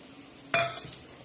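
A quick burst of sizzle as green chilli, cumin and garlic masala drops into a hot pan, a sudden hiss midway with a short scrape of stirring after, otherwise quiet.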